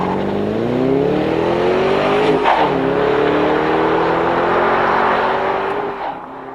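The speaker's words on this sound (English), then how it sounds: "Here's the 2008 Bullitt Mustang in action." A 2008 Bullitt Mustang's V8 engine drones steadily while driving, its pitch climbing through a gear, dipping briefly, then holding a strong, close, sustained growl that fades slightly at the end, with no talk.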